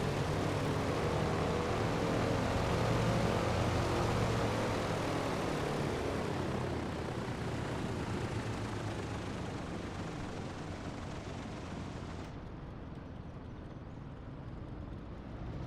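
A DC-3 propeller plane's engine drones steadily in a video game as it taxis, a broad continuous rumble that gradually eases slightly in loudness over the stretch.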